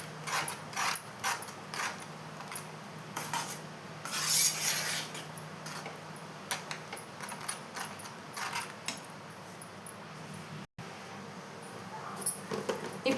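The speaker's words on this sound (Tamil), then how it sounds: "இதை ஒரு 2 நிமிஷம் நல்லா கைவிடாமல் கிண்டிகிட்டே இருக்கணுங்க." Rava kesari being stirred in a pan sounds as continuous scraping and rubbing of a spoon against metal, moderately close with irregular clinks throughout and no talk.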